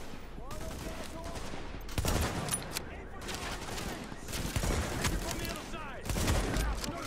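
Gunfire in The Division video game: dense bursts of automatic rifle fire and sharp shots crackle in repeated volleys, loud and close, with a voice speaking underneath.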